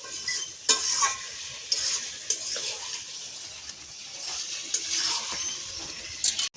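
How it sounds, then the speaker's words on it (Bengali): Mutton curry with ground spice paste cooking down in a pan, continuous sizzling with repeated metal spoon scrapes and occasional clinks against the pot, close and moderately loud throughout. "খাসির মাংস অনেকক্ষণ ধরে চাপা দিয়ে দিয়ে কষাই করতে হবে, মাংসটা যাতে ভালো করে সেদ্ধ হয়।"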